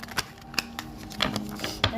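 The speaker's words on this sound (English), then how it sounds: "We're just giving them a little bit of a shuffle just to make sure everything is mixed in here really nicely." A deck of tarot cards is shuffled in a string of crisp riffles and taps at an irregular pace, close and moderately quiet, over a faint steady hum.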